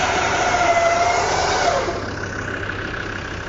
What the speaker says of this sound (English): I'll start running that rope in under pressure and guiding it on and checking it with my hand